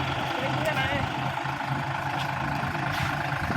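A tractor engine idles and runs with a steady low diesel rumble close by, continuous throughout, while people talk over it.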